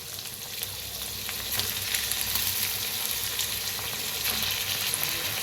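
Rice, peas and onion sizzle steadily in a hot pan while being stirred and roasted, a continuous close frying hiss with faint scraping throughout.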